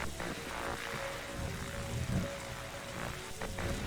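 Steady rain patters and hisses throughout a night scene in The Darkside Detective video game, a constant wash of drops with no speech over it.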